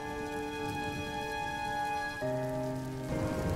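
Heavy rain at night in an animated story, a continuous rushing wash of rainfall under sustained musical tones that shift midway.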